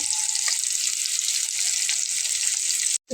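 Eggplant slices frying in hot oil, a steady, bright crackling sizzle with scattered pops, running continuously before cutting off abruptly near the end.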